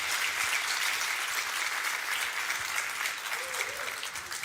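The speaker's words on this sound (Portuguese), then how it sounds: "Vamos dar uma salva de palmas" A crowd at a Portuguese-language motivational talk gives sustained, dense applause that stays at an even level throughout, with faint traces of a voice mixed in.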